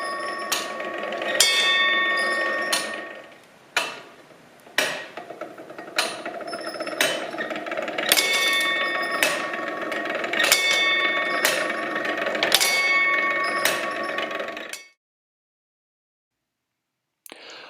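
Iron tower clock's quarter-hour striking mechanism sounds, with a hammer hitting the bells: a series of sharp metallic strikes ringing close and loud over about fifteen seconds, then silence.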